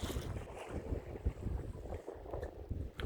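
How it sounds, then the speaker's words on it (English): A boat rocks on lake waves and current in gusty wind, with rough buffeting wind noise and irregular low sloshing thumps against the hull, close to the microphone, no talking. "It's like rocking really strongly back and forth because of the current of the waves and the water"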